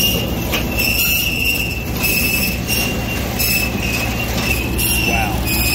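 Steady high-pitched squeal from an Eastonmade 12-22 wood splitter's conveyor, running continuously over a constant mechanical rumble, loud and close, with no talk.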